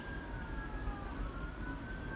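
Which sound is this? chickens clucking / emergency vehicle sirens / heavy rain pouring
emergency vehicle sirens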